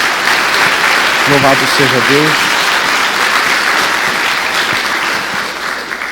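A church congregation breaks into sustained applause, a dense wash of clapping heard up close. A voice briefly exclaims over the clapping, which fades slightly near the end.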